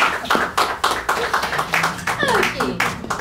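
An audience at an improv festival in Paris claps along, with sharp, loud, rhythmic claps close by, while voices talk and call out over them.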